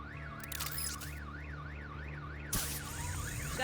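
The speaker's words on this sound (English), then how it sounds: "My bat stunner would set off the car alarm" Car alarm in the Batman: The Enemy Within video game, set off by a bat stunner: a steady, moderately loud wailing tone sweeping up and down in a fast repeating cycle, joined near the end by a sharp crackling burst.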